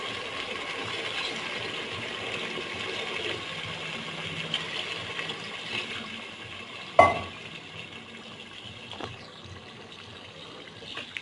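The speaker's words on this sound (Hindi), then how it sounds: "अच्छी तरह मिक्स करने के बाद हम इसके अंदर 2 ग्लास पानी ऐड कर देते हैं।" Water poured from glasses into a pot of chicken and green beans, a soft continuous splashing and sizzling wash with a sharp clink of the glass partway through.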